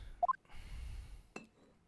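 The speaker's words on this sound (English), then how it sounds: "Pouring yourself a glass?" In The Great Ace Attorney Chronicles, a glass rings with two quick bright clinks, then a soft liquid pour, then one more sharp clink, all close and quiet with no voices.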